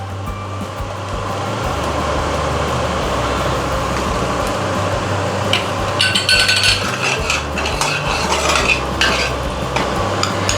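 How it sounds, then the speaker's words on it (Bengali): Asafoetida dropped into hot white oil for a spinach and paneer dish, sizzling steadily and loudly, with clattering stirring and pan knocks growing busier partway through. "এবার এতে সাদা তেল অ্যাড করব একটু সামান্য হিং দেবো"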